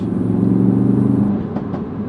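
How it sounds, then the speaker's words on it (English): A Volkswagen Golf VR6 six-cylinder with a Maxtech non-resonated exhaust, modified for the Nürburgring, rumbling at a steady deep idle up close, then easing off to a lower burble. "with a Mailtech non-resonated exhaust, the VR6 of Golf, the last real 6-cylinder in a Golf"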